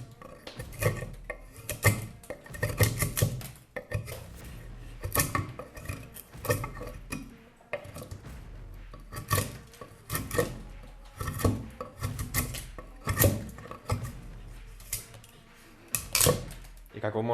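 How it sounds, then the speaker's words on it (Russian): A tanto tactical knife whittling wood, with repeated rasping scraping strokes in an irregular rhythm, close and steady, no talking over it. "как вы можете заметить, по дереву нож справляется тоже отлично"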